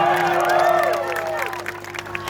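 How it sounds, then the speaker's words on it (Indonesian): Concert crowd at a festival show in Makassar applauding and cheering, a broad wash of clapping and voices under a sustained tone from the stage sound system, loud and continuous throughout. "Tepuk tangan dulu buat kalian semua"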